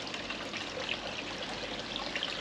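A garden pond fountain gives a steady, close rush of falling and splashing water, continuous and even with no talk.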